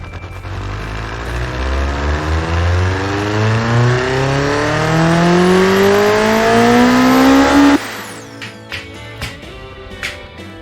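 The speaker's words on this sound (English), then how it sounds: "Let's test the engine real quick." A turbocharged rally car engine in the Automation and BeamNG video games revs up loudly through a long rising pitch climb, then cuts off abruptly, followed by a few sharp pops and crackles.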